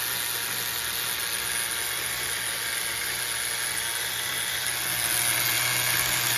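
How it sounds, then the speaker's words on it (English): The small nitro engine of an HPI MT2 RC truck idles in a steady, high, buzzing whine that holds constant throughout, fairly faint and with no voices. "See if we get this idle under control."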